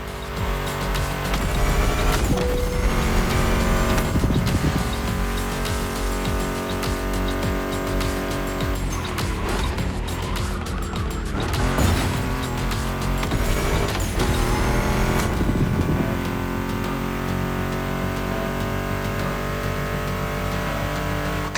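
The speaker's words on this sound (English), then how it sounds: "Meshes well with the sound of the engines" Loud, continuous Mustang GT muscle car engine roaring and revving with tire squeals in a racing video game, layered under driving rock guitar music, sustained throughout with brief surges.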